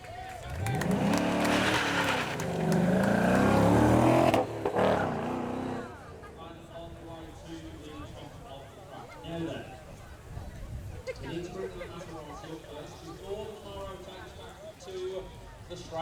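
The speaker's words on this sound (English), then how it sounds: "The flag drops and the Stang is away." A Ford Mustang launches from a flag start at a supercar weekend show, loud engine roar and tire squeal for several seconds that then drop away, with a commentator talking over it and crowd noise after.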